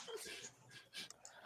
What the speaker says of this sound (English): Somebody else's dog's pissed.